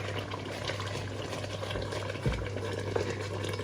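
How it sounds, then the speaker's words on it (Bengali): A thick masala of onion, chilli, ginger and garlic fries and is stirred continuously in a large pot, giving a constant low bubbling sizzle with occasional soft scrapes, close and even. "আর এটাকে নাড়ানো থামানো যাবে না এভাবে দাঁড়ায় থেকে এক দেড় ঘন্টা আমাকে নেড়ে নেড়ে মশলাটা করতে হবে"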